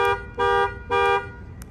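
Panic alarm on a 2021 RAM 1500 Rebel Night Edition pickup, set off from the key fob: loud, close horn blasts repeating in an even rhythm, three honks in quick succession with no talking.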